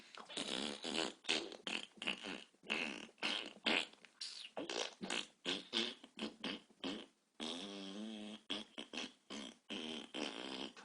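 A voice imitates goblins farting musical notes, blowing a long run of buzzy, raspy bursts that shift in pitch, closely miked and stuttering in uneven rhythm.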